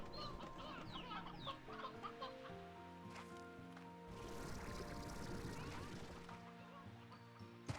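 Chickens in the game Slime Rancher cluck and squawk in a busy, overlapping chorus against game music and ambience, with many birds close by and no talking.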